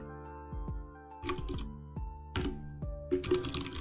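Keys clatter on a computer keyboard in short irregular bursts of typing, close and fairly quiet, with brief pauses between clusters of keystrokes over a faint tonal background.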